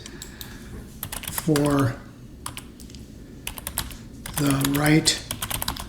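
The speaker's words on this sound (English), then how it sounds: "My typing is terrible, so I apologize" Rapid clicking keystrokes on a computer keyboard come in irregular bursts, close and crisp, broken up by two short spoken phrases from a person.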